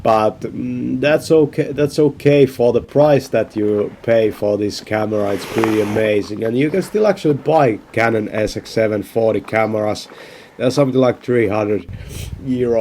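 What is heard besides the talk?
No distinct noise like a dog, phone or traffic.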